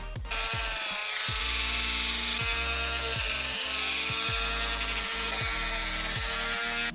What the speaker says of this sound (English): It's just using a Dremel and going over some of the rough areas.